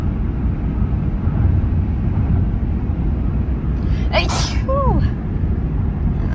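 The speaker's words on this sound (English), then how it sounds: "I have to sneeze." A single sharp sneeze bursts out near the end over a steady low rumbling background, followed by a brief breathy vocal sound.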